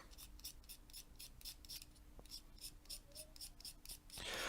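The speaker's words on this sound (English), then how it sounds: "you're going to take your knife, and you're going to scrape off like this to get some graphite dust" A knife blade scrapes a dark graphite pencil to shave off graphite dust for drawing, making faint rhythmic rasping strokes, about a dozen quick close scrapes in a quiet room.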